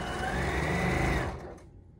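A sewing machine stitches a rolled hem on toweling fabric, its rapid mechanical whir running loud and close for just over a second before stopping abruptly, leaving faint room noise.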